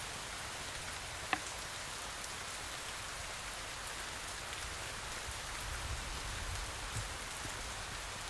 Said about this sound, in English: So we're stuck here until it quits raining.